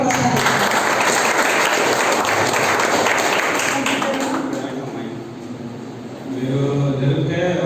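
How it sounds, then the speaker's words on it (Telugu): Loud, dense applause from an audience at an atheist conference gathering in coastal Andhra, sustained clapping that thins briefly and then swells again, with voices underneath. "చప్పట్లతో ఒక్కసారి"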